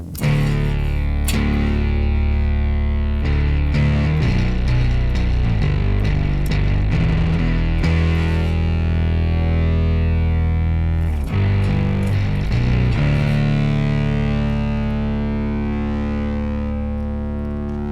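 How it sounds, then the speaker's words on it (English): A heavily distorted, octave-doubled bass guitar, run through octaver, overdrive and distortion effects on a Raspberry Pi, plays a thick, sustained riff, loud and dense with fuzz throughout. "it's got all the octaver, all the overdrive, all the distortion"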